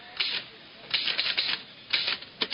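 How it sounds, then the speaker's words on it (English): Typewriter struck in slow hunt-and-peck fashion, with short irregular bursts of clacking keys separated by pauses, close and fairly quiet. "the typing I was concerned with one Tuesday morning was strictly of the hunt and peck variety"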